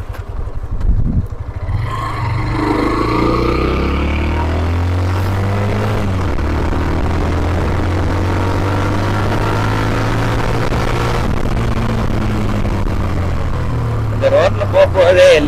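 A Hero Xtreme 125R 125cc motorcycle rides along a road, its engine droning steadily and rising in pitch through gear changes, close and loud, with wind rush and someone talking over it throughout.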